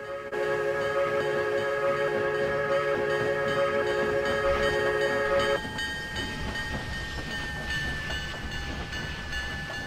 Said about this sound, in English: we see a coal train coming around the bend